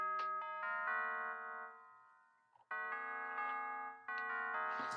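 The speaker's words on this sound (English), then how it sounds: "So tubular bells sounds like this." Stock Logic tubular bells from a trap production session play a short melodic run of bright, ringing metallic tones. Each strike is clean and sustained, and a gap around the middle cuts the decay short. There is no talking.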